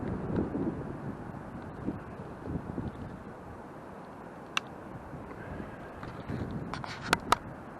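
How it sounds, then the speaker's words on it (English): Light wind rumbles against an action camera's microphone outdoors, a faint, fluttering low roar with a few sharp clicks and knocks near the end. "Boy, that darn wind"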